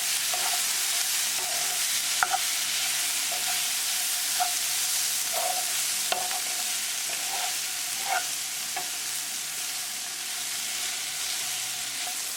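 French beans sizzle and fry in a pan while being stirred, giving a constant soft hiss broken by occasional light scrapes and taps of the spoon, with no talking.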